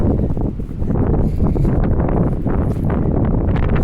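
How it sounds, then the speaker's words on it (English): Heavy wind pounds the microphone on a downtown walk, a steady loud low-frequency roar with ragged gusty fluctuations lasting the whole stretch. "ooh, very windy right here."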